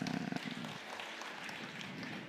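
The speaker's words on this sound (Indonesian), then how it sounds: "Tepuk tangan." Brief applause from an audience at a regional government event in Mojokerto, quiet and steady clapping lasting a couple of seconds with a muffled voice at the start.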